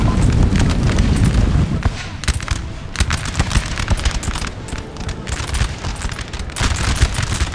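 The Old Guard fire a musket volley in a Napoleon: Total War battle on Prussian hills: a dense rumble of massed shots, then scattered crackling reports and booms carrying on steadily across the field.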